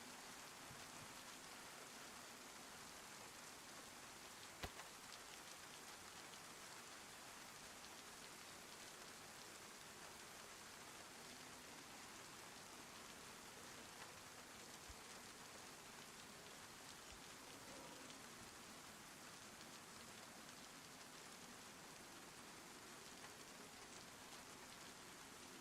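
Steady rain falls in the survival video game DayZ, a constant dense hiss of drops on surfaces holding even level throughout, with one brief sharp tick near the start.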